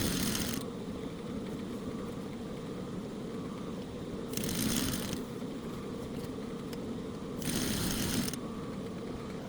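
A sewing machine stitches fabric for a kimono jacket with a half-inch seam, its steady mechanical whir swelling into three brief, brighter running bursts.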